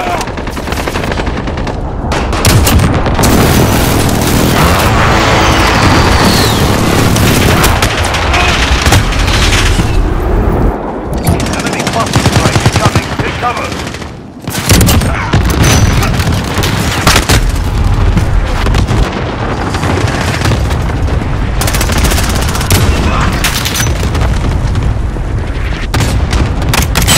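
Relentless gunfire and booming explosions fill a Call of Duty Modern Warfare match on the Rust map, with rapid automatic bursts and heavy blasts from a precision airstrike overlapping loudly and almost without pause.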